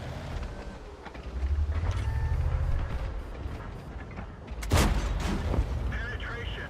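A T25 Pilot Number 1 tank fires its cannon in World of Tanks, with a sharp loud blast standing out over a rumbling engine and battlefield noise. The engine drone continues around it.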